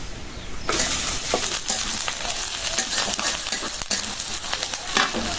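Onion and garlic sizzle hard in a hot pan, then green chilies drop in and the frying flares louder, with steady crackling and occasional stirring scrapes, close up and with no one talking.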